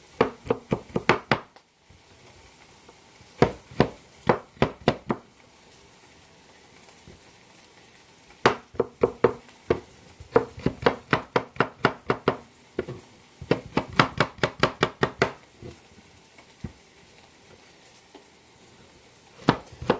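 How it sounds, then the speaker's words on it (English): A kitchen knife chopping garlic finely on a board, rapid bursts of sharp taps in clustered runs separated by short pauses, loud and close with no talk. "I'm going to take my garlic. I'm just going to chop it down a little fine."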